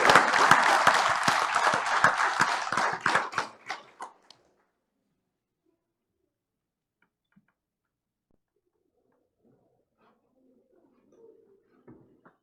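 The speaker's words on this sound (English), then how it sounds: "let's give these boys a big round of applause." A meeting crowd at a city commission session gives a youth team of champion boys a loud round of clapping that lasts about four seconds and stops sharply, followed by near silence with faint shuffles.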